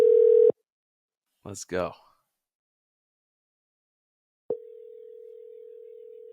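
Telephone call tones while ringing someone: a steady electronic tone cuts off, someone speaks briefly, then after a pause a continuous flat tone starts and keeps sounding to the end.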